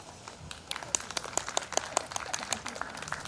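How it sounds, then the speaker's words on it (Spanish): A burst of hand clapping from a small group at a 50th birthday party, fairly sparse and uneven, rising and falling over a few seconds. "Venga, los aplausos para Marcela."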